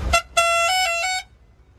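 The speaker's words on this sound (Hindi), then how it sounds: "बहुत तेज हॉर्न है।" Loud horn on a refrigerator truck, one short blast and then a long sustained honk lasting nearly a second, close and clear with no talk over it.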